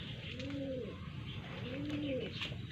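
Pigeons coo in two soft, rounded calls with a pause between them, heard fairly close against a steady background hiss.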